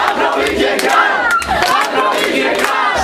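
Club audience at K Klub in Detva roaring and chanting together, a loud, dense wall of crowd voices with shouted rises and no clear clapping, sustained for a few seconds.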